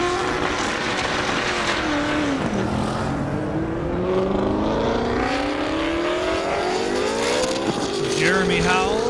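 A 1,300-horsepower Mustang drag car launches down an airport airstrip at a drag racing event, its engine howling loud and steady with rising pitch sweeps, while a commentator talks over it.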